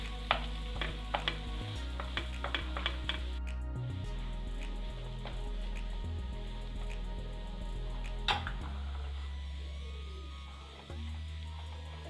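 Mashed potato and raw banana are mixed into frying masala in a pan for raw banana paneer cutlets. The sizzle stays gentle and steady, with a low hum, clicks and scrapes from stirring early on and one louder clatter later.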